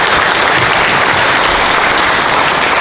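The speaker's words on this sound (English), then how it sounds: "Let's give them a round of applause for leading leadership." Loud, dense applause from a school Veterans Day assembly audience for the fourth graders who led the Pledge of Allegiance, a continuous wash of clapping that stays strong throughout.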